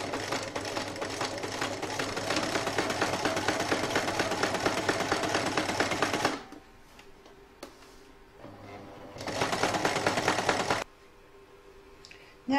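An embroidery machine stitching thin fabric backed with tearaway stabilizer, a fast steady mechanical whirr in two long runs separated by quiet pauses, close and even, no talking.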